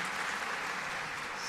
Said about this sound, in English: I think we should clap everybody.